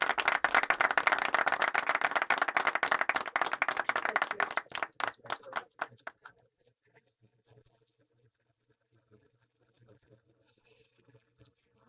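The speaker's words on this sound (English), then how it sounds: "Please give her a round of big applause when she comes on board on the stage." Audience applause at a college commencement welcoming a student speaker: dense clapping fills the first few seconds, then thins into scattered claps and fades to near silence.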